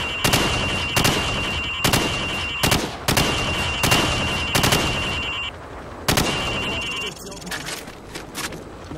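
Rifle fire at pop-up targets on a firing range in Call of Duty 4: Modern Warfare, sharp loud shots in quick rhythmic bursts, about a dozen in all with short ringing tails, easing slightly toward the end.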